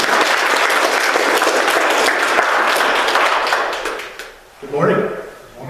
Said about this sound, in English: everybody give a warm welcome and round of applause for Rob Halsey